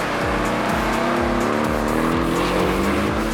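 Porsche 718 Boxster S with a 2.5-litre turbo engine and PDK gearbox pulling hard from inside the cabin, its loud, continuous engine note rising in pitch through the revs.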